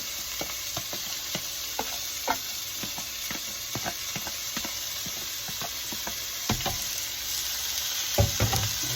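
Chopped onions, part of a Cajun trinity for crawfish étouffée, frying in olive oil in a pan, giving a steady close sizzle with scattered crackles and pops throughout, heard alone without talk.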